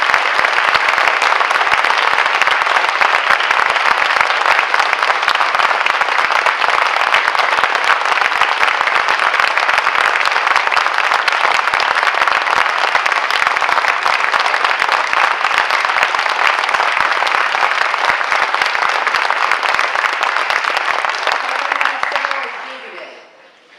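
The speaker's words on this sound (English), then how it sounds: "give our candidates a round of applause" Sustained, dense audience applause for the candidates at a 2018 NY-19 Democratic candidates forum, a loud, even roar of many hands clapping for over twenty seconds before it tapers off quickly.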